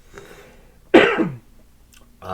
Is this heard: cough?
yes